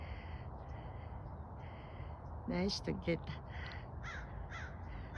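Crows caw outdoors in a short burst of several harsh calls from a few birds, heard over a steady background hiss while someone talks.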